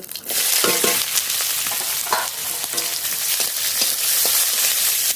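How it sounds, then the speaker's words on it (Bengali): Onion, garlic, cumin, ginger and green chilli fry together in hot oil with a steady loud sizzle, and a utensil stirs and scrapes through the pan every so often. No one speaks. "পেঁয়াজ, রসুন, জিরে, আদা, কাঁচা লঙ্কা, সব একসঙ্গে ভেজে নেব।"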